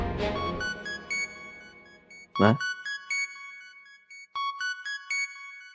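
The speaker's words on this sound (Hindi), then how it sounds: "शाहनवाज का फोन इस वक्त" A phone rings in a Pakistani TV drama scene, a bright electronic ringtone repeating in short melodic bursts after an opening musical sting, with no talking.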